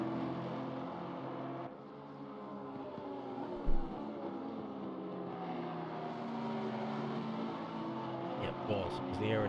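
A Porsche GT3 race car in a sim racing league round at Monza drives past with a sustained engine drone that swells and fades, under ongoing commentator talk, with a brief thump partway through.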